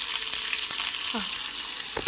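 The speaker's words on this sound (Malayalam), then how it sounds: "ഇത്തിരി എണ്ണ ഒഴിച്ച് സവാളയെല്ലാം കൂടെ വാട്ടി" Chopped onions sauté in a little oil in a pan as the base for a tilapia gravy, giving a close, continuous sizzle broken by a few light stirring scrapes.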